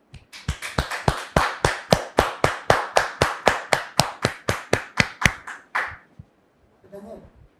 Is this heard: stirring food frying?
no